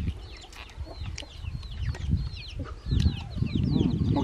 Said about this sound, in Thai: ไก่ก็ดังมาก